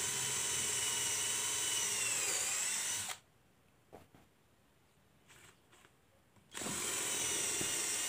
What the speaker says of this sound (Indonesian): Untuk kayu yang keras sebaiknya dibantu dengan bor kecil agar skrupnya lebih gampang